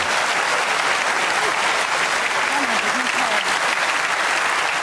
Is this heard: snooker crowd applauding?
yes